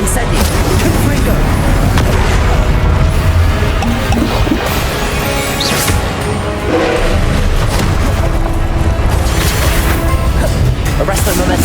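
Spell blasts from Confringo fire attacks in Hogwarts Legacy go off again and again in loud, dense bursts, with crashing booms layered over a constant wash of game noise.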